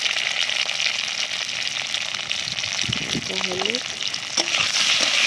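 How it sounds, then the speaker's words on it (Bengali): Pointed gourds (potol) lightly salted and frying in a pan with a steady, close sizzle and occasional stirring scrapes, while someone talks over it. "একটু লাল লাল করে ভেজে নেব পটলগুলো।"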